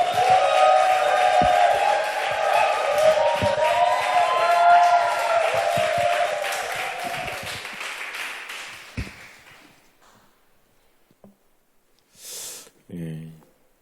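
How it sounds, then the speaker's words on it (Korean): Church congregation applauding and cheering to welcome a visiting pastor, a loud sustained wave of clapping over music that fades out after about nine seconds, followed by a near-silent pause and brief speech. "우리 목사님 박수로 환영하겠습니다"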